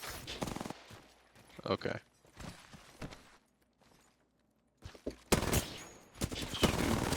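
Apex Legends gunfire comes in short, sharp bursts split by gaps of near silence, loud in the later part, while people speak briefly between shots.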